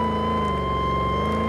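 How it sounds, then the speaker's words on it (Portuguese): A police patrol car siren wails steadily and loudly near a favela in Brazil, a sustained tone with no talk over it. "Desliguei aqui a sirene da viatura."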